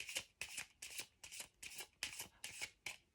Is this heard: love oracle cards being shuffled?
yes